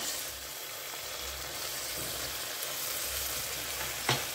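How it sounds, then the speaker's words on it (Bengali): Mustard and poppy seed spice paste sautés in a pan for a hilsa fish tel jhal. A quiet, steady sizzle continues throughout, with a single small clink near the end and no speech. "এবার ভালো করে মশলাটা কষিয়ে নিচ্ছি। মশলা ভালো করে কষিয়ে নিয়েছি।"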